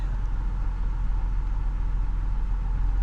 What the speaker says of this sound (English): it's just the nature of a Toyota or a foreign car. The engine to me is kind of ticky.